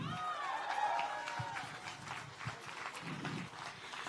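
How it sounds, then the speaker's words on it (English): Crowd at an El Paso Strong memorial and protest rally applauding steadily over several seconds, with whistles or whoops rising above the clapping early on and scattered voices mixed in. "Please, guys, give Javier a round of applause."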